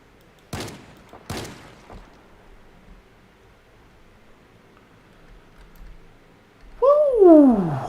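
Shotgun blasts in Project Zomboid: two loud, sharp reports about a second apart, a fainter third shot, then quiet before a rising, wavering tonal sound at the end.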